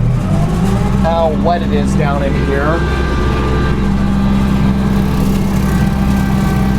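A Kubota LX2610 compact tractor mowing tall, wet grass, its engine droning loud and steady up close, with someone talking over the running motor.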